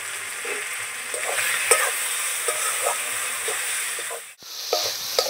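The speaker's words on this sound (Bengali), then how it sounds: "আর এখানে আদা রসুন সব দিয়ে দেবো। এগুলো একটু নাড়াচাড়া করে নিই।" Ginger, garlic and turmeric stirred and fried in a pan, with a loud, close, constant sizzling hiss and soft rhythmic scrapes of a spoon, which briefly drop out near the end.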